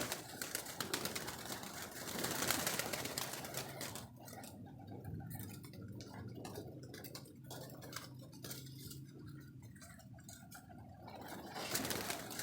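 Highflyer pigeons being fed grain coo low and steadily while a rapid, irregular patter of ticking pecks and taps runs over the top, busy and close throughout.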